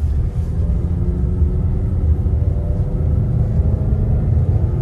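A 2010 Dodge Journey MPV accelerates along a rough road, its steady low engine and road rumble filling the interior evenly and continuously, with no talking.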